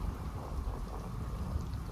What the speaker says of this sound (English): as we hear the water dripping even now down the waterfall behind me